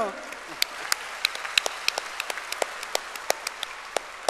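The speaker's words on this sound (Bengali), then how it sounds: "আরেকটা হাতে তালি মতি ভাইয়ের জন্য" An audience at an anniversary celebration gives a short burst of applause, a dense patter of many hands clapping close by, with crisp individual claps standing out.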